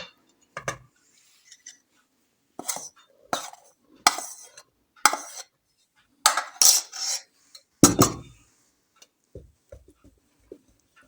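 Pyrizhky dough is stirred in a bowl by hand in a series of separate scraping, clattering strokes, some single and some in quick bunches, with short quiet gaps between them and no talking.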